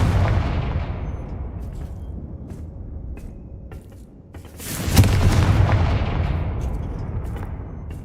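A Confringo fire-blast spell explodes in Hogwarts Legacy: a loud booming burst that decays into a rumbling tail, followed midway by a second louder blast that fades slowly, no speech.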